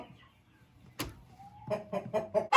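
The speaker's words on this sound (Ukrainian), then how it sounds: "А, тут ще одна сидить. Це півник." Hens and a rooster cluck softly in a quick rhythmic series, after a single sharp sound and a faint rising tone, close by.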